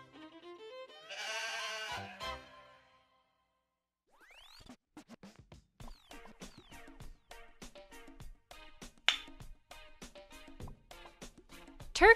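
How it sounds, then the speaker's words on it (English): A goat gives one loud, wavering bleat lasting about a second, followed after a pause by a scattered run of sharp clicks and chirps. "Goat"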